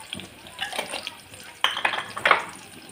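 Cumin and ajwain seeds frying in a little oil in a pan, with soft crackling sizzle and a few sharp clinks and scrapes of a spoon stirring against the metal pan, close up.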